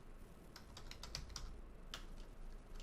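Someone types on a computer keyboard during a hacking exercise on a Linux machine, with a burst of key clicks, several quick separate taps and a lone late keystroke, close and fairly quiet, with no speech.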